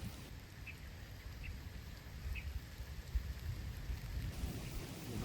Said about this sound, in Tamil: மழை பெய்யுதுடா.